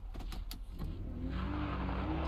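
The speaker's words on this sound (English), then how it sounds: "get in the freaking truck" A truck engine in the Siren Head video game starts and settles into a steady low rumble, following a few short mechanical clunks at the start, with no talk.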